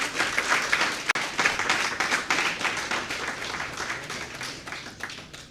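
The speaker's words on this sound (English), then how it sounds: "Let's cheer them on." Audience applause with some cheering for robot competition teams at a Battle of the Bots launch event, dense steady clapping that gradually tapers off toward the end.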